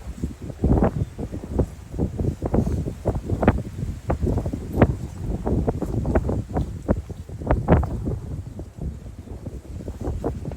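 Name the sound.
strong wind outdoors at a lake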